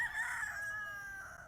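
A rooster crows among gamefowl on a farm, the harmonic call held for over a second at moderate distance, trailing off at the end over faint low background noise.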